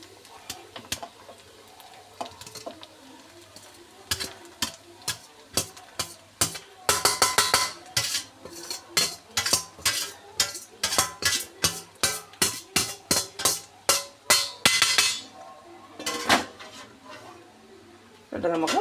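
Tomato rice tipped into a pan and stirred, heard as a long run of rhythmic metallic ticks and scrapes of a spoon against the pan, quickening in the middle, with a voice speaking in the background.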